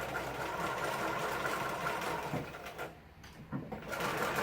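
A sewing machine back stitches a seam on palazzo pants, giving a close, steady motor whir and needle chatter that runs for a few seconds, then stops briefly and restarts with short bursts.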